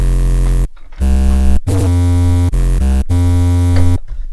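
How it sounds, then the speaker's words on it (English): An unprocessed wavetable bass synth plays loud, sustained, buzzy notes in short phrases separated by brief gaps, with the pitch shifting between notes. "And now onto the juicy stuff, which is obviously this lovely bass."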